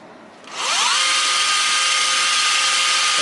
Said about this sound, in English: and then I can do my drilling.